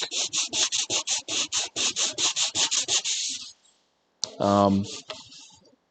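Rhythmic rubbing strokes of sanding on samurai armour in a workshop, about twenty quick even passes close by, then a pause and a longer rasping burst.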